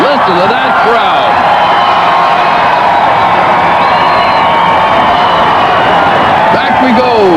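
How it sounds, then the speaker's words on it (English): A huge Times Square New Year's Eve crowd roars in a steady, loud wash of cheering, while voices talk over it near the start and end. "Listen to that crowd."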